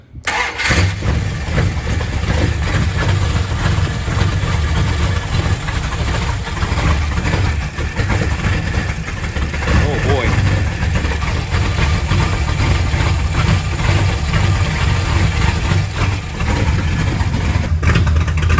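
A Mopar Performance 360 crate engine rated at 380 hp fires up in a 1973 Plymouth Satellite/Roadrunner and runs loud and close, a rough, rowdy, uneven idle holding steady throughout.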